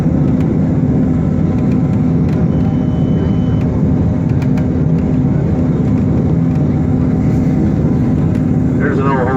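The Pikes Peak railway train runs through a narrow canyon, its engine and wheels making a loud, steady low rumble and whir that fills the whole stretch, with passengers' voices faint underneath.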